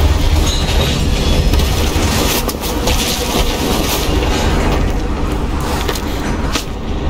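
A train in Call of Duty Black Ops Cold War rumbles loud and close, with steady wheel clatter and brief screeching rising over a constant low roar as it slows.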